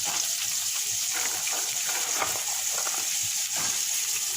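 Chopped spring onions fry in a pan for fried rice with a loud, steady sizzle, joined by intermittent stirring scrapes, and no talking.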